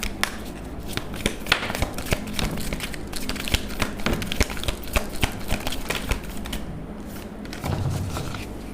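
A deck of tarot cards is shuffled close up, a continuous crisp run of rapid flicking and riffling snaps that stays fairly steady throughout, with no talking.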